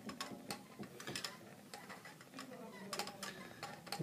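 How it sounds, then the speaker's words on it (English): A glass rod stirs gently inside a glass boiling tube in a water bath during a benzoic acid recrystallisation, producing light, irregular ticking clinks close by. "stir with a glass rod gently"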